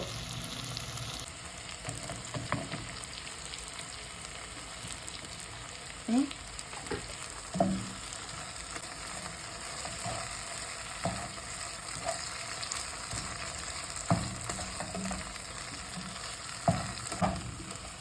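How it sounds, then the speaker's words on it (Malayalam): Shallots frying in a pan give a steady, close sizzle that runs the whole time, with a few soft clinks of stirring scattered through and no talking. "ഇനി നമുക്ക് ചെറിയുള്ളി ഇട്ടെടുക്കാം കേട്ടോ."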